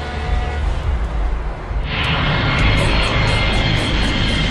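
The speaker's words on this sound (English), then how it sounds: "It starts with a supersonic flight on Concorde to New York." A Concorde supersonic airliner in flight gives a loud, steady jet roar that swells and brightens partway through and holds as a continuous close wash of engine noise with no voices.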